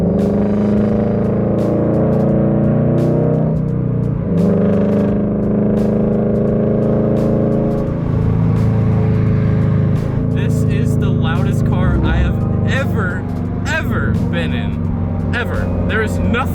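Subaru BRZ fitted with a JDL UEL header, front pipe and Tomei 80R exhaust, roaring loud and close from inside the cabin, a droning engine note rising and falling through revs, with excited talk in the later seconds.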